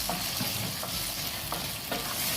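Chicken and mixed vegetables sautéing in a pan, a steady sizzle running throughout with several clacks of a stirring utensil scraping and tossing the food, close and moderately loud, no voices.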